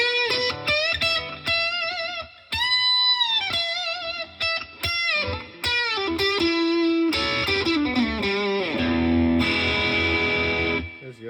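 Electric guitar played through a second distortion pedal, running lead lines, sustained bends and chords at steady volume with short gaps, no talking.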